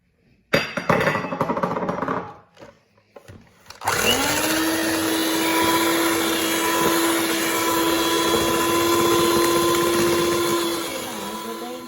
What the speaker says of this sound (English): Now we're going to add my sugar, and we are going to beat this for another 5 to 8 minutes